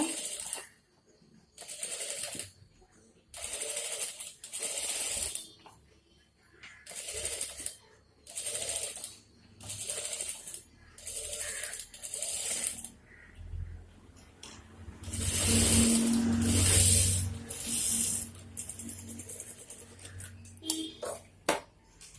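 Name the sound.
sewing machine stitching blouse fabric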